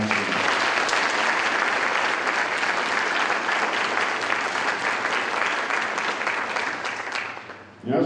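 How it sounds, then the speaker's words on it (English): Sustained, loud applause from a large audience at a Naval Academy leadership conference, steady dense clapping that holds for several seconds before thinning briefly at the end. "How about a round of applause for that generosity?"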